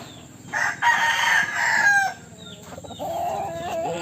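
A rooster lets out a long crow up close while hens cluck and murmur around it, followed by more softer calls.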